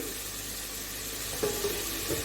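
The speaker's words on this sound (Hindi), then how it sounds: "और इसको अच्छी तरह भूनूंगी" Meat for karela gosht fries in oil with tomato, onion and garlic, giving a steady close sizzle throughout with a few brief stirring scrapes near the end.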